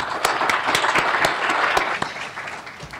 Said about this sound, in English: So we should give them a round of applause.